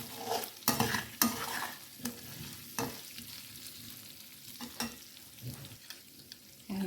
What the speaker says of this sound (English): Time to add in the ginger and cook this on low briefly till the raw smell goes away